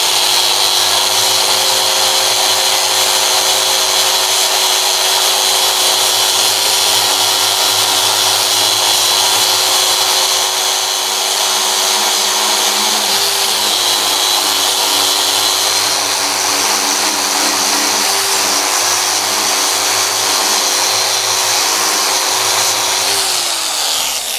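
A power tool sands a workpiece to refine scratches before polishing, a loud steady high-pitched whine that runs without a break and dips slightly in speed partway through.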